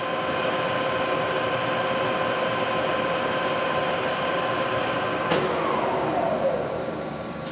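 A Monarch 25 x 48 toolroom lathe in excellent condition hums steadily with a constant mechanical drone and tonal whine, with a sharp click partway through followed by a descending tone as the speed shifts.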